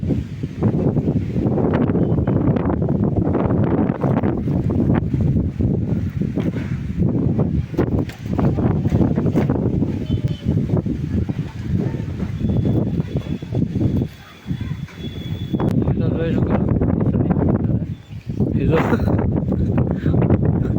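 A strong summer windstorm roars and buffets continuously against the microphone, blowing dust, with brief lulls, while people speak under the rushing noise.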